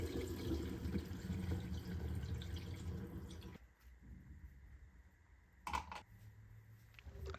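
Homemade yerba mate nalewka poured through a funnel and strainer into bottles, a steady close trickle of liquid that stops partway, followed by quiet drips and a brief clink.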